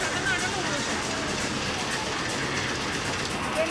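A train at a station on a Digha to Kolkata trip, with a steady rolling rumble and faint rail clatter under a constant murmur of a crowd talking nearby.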